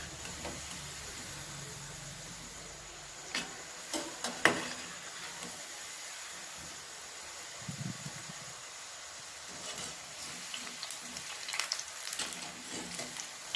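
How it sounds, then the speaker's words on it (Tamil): Soya cutlets deep frying in hot oil for an evening snack, giving a steady low sizzle and bubbling throughout, with a few faint clinks and stirring sounds near the pan and no talking. "இது எண்ணெயில் போட்டதும் உடையவும் உடையாவது, பிரிஞ்சும் வராதுங்க."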